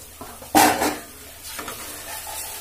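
A spiced masala filling for soya egg rolls sizzles in a pan as it is stirred, with one loud scraping stir followed by softer frying and lighter stirring.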